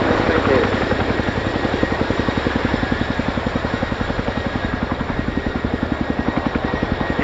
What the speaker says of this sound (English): Really proud to be bringing you the 2019 Chinook display this year.